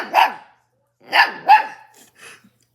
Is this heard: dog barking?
yes